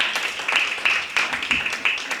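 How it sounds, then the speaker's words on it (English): An audience at a Somerville Prevention community event applauds the Positive Youth Leaders, with steady overlapping clapping at moderate loudness through the whole short stretch and some voices mixed in. "We should give them a big round of applause."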